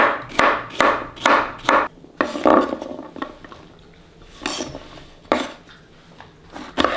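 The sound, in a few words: knife cutting zucchini into squares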